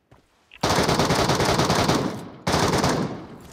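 Rapid automatic gunfire from a video game shooter, loud and sustained: one long burst, a brief pause, then a second burst that fades at the end.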